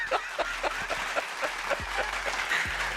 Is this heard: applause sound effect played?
yes